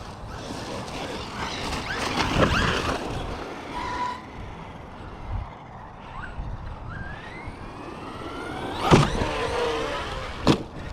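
Arrma Mojave 4S RC truck being driven outdoors, its electric motor whining and rising in pitch with throttle bursts, jumps and landing thumps, fairly loud and continuous with no talk.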